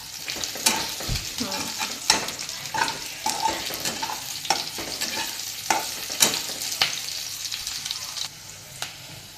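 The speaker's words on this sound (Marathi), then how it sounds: "चांगला हलव ना त्याला।" Capsicum frying in oil in a pan while being stirred for noodles, a steady sizzle throughout with repeated scraping and clinking strokes of a spoon against the pan, fairly close, no speech.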